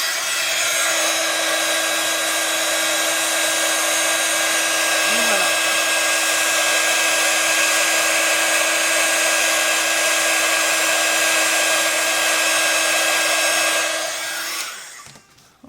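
A heat tool melting embossing powder for heat embossing, a steady loud whirring blower hum held close for about fourteen seconds before it shuts off.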